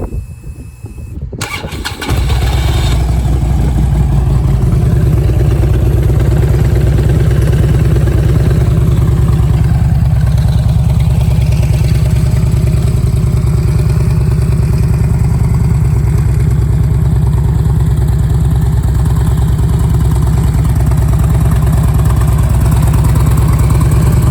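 A 2008 Harley-Davidson Street Glide engine cranks and fires after a brief starter whir, then settles into a loud, close, steady rumbling idle that runs to the end with no talking.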